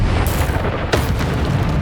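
Bombarda spell explosion in the video game Hogwarts Legacy, a loud booming blast with a sharp burst near the middle over a dense, sustained rumble.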